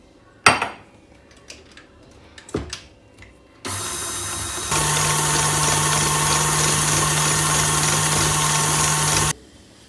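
A hand mixer whipping chilled crème chantilly runs in a steady, loud motor whine for several seconds after a few clinks of utensils against a bowl, with no talking.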